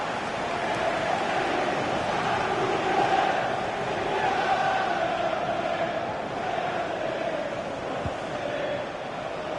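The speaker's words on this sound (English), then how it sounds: "it must be really great for these Liverpool players to hear this crowd" A stadium crowd in the FIFA 20 football game, featuring Liverpool, keeps up a continuous, loud, roaring wash of cheering and chanting that swells slightly but never breaks.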